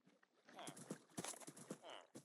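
Horse hooves clip-clopping in the Minecraft video game, a string of quick hollow clops at close range, with a couple of brief whinny-like tones mixed in.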